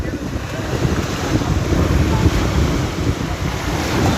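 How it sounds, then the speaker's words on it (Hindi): Sea waves wash onto a seaview shore in Saudi Arabia near the Jordan border, making a continuous rushing surf roar mixed with strong wind buffeting the microphone. "ये देखे जी पानी कैसे आ रहा है"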